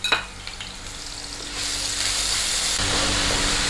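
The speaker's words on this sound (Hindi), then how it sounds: "तो सबसे पहले अब हम ये प्याज डाल देंगे इसमें और इसे भूनेंगे थोड़ी देर।" Onions go into a frying pan with ground whole spices and start to sizzle. A few clinks and stirring scrapes come first, then a loud, steady frying hiss builds and holds close up.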